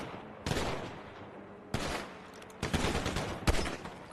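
Gunfire in the video game GTA V comes as several sharp bursts and volleys, spaced irregularly with short rapid strings of shots between quieter gaps, with no talking.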